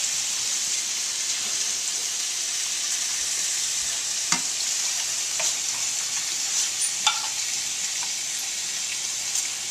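Tomato sauce thinned with a can of water heats in a pot on the stove, giving a steady close sizzle with occasional soft clinks of stirring and no talk.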